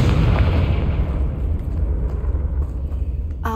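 In Hogwarts Legacy, a Confringo fire spell bursts with a deep, rumbling explosion that fills the clip loudly, then rolls away and fades into a low hum, with a short, sharp pop at the very end.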